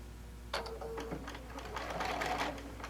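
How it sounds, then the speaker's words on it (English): A sewing machine top stitches around the upper edge of a fabric tote made from fat quarters, sewing through many layers with a lengthened stitch; a close, steady mechanical whir runs in bursts after a brief pause. "So I'm going to stitch around the top portion for my top stitch."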